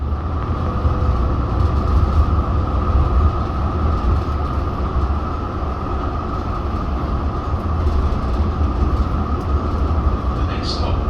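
A Yarra Trams B2 class high-floor tram runs through Melbourne, its steady interior rumble and wheel hum continuous and close throughout, with no break in the drone.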